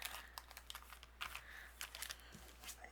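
A plastic bag crinkles as a handmade card is slid inside for storage, giving quiet, irregular close-up rustles and crackles over a low steady hum, with no talking.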